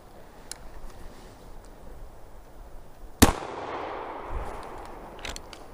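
A single loud blast from a .410 Snake Charmer shotgun fired outdoors near a boat cracks once and then rumbles away, with faint clicks before and after it and no talking.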